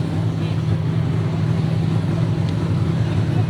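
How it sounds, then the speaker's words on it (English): Mustang drift car engines at a D1NZ drift championship event at Baypark Stadium, a continuous loud droning roar with a steady low hum and crowd-like background wash and no clear speech. "You can hear the roar of the engines."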